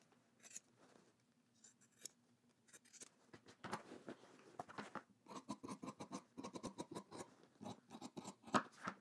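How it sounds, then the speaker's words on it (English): Scissors trimming the corners of sewn denim fabric for jeans make a quiet, close series of short snips and crisp cuts that speed up into quick bursts toward the end. "I'm gonna trim the corners."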